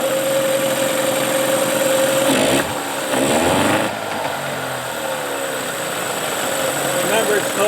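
A Mercury Marine 9.9H outboard motor on a Tracker boat, troubled by starting problems, revs with a steady buzzing drone that briefly surges and dips midway. It stays close and fairly loud throughout.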